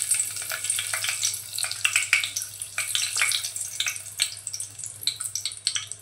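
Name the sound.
bay leaves frying in hot oil, sizzling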